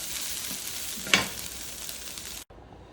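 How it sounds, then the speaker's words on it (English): Steady broadband sizzling of chicken frying in a pan, a continuous hiss with a brief louder crackle midway before the sound cuts off. "Get some sizzle."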